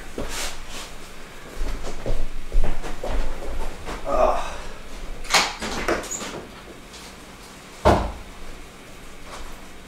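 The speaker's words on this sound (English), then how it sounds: "I'm gonna open the uh, door here" A door in a home kitchen opens with a few wooden knocks and clunks amid clatter, fairly close and moderately loud, over a steady background hiss.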